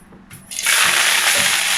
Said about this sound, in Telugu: కొత్తిమీరని ఇలా సన్నగా కట్ చేసుకొని 1-2 సార్లు శుభ్రంగా కడిగి